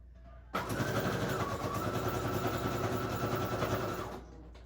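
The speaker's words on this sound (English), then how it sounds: "I'm gonna go ahead now and sew this flap down, and I'm gonna sew the lace at the top" A sewing machine runs steadily for about three and a half seconds, stitching down a card flap and lace trim for vintage lace sample cards, close and continuous with no talking.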